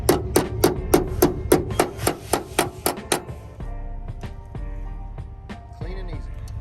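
Door hinge pin bushings being pressed into a Chevrolet Squarebody truck: about a dozen sharp, evenly spaced metallic knocks in quick succession, close and loud, then a quieter stretch of low hum and faint clinks.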